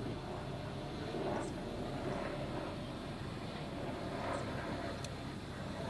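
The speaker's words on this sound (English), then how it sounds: "So I'm gonna get the aircraft in the air, and we will do that." A DJI Inspire 3 drone flying overhead gives a steady, broad whirring drone of rotors mixed with wind, constant and fairly faint throughout.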